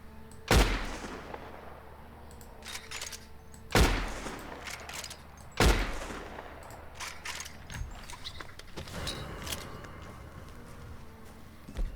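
Gunfire in Red Dead Redemption 2, with three loud, sharp shots spaced a couple of seconds apart, each trailing off into a rumbling echo, followed by fainter clicks and scattered smaller bangs.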